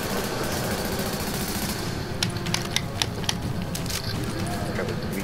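An AK rifle fires in The Division in short rapid bursts over dense background game noise, the sharp shots moderately loud amid constant battle din.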